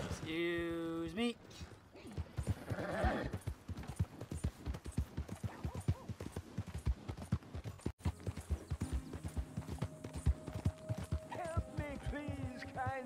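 Horse hooves clip-clop in steady rhythmic beats in Red Dead Redemption 2, clear and close, with brief game voices and a whinny heard over them.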